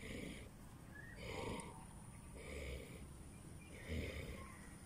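A sick cow breathes with a rough, snoring rasp, four slow drawn-out breaths in a steady rhythm, close but fairly quiet over a faint background hum.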